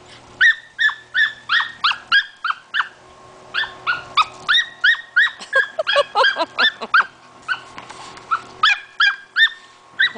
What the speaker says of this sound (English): This is my dog, Squirrel Chaser. He loves to chase squirrels.